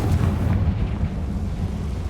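A Confringo blasting spell goes off in the Hogwarts Legacy video game as a loud, low, rumbling boom that holds steady for about two seconds with no voice over it.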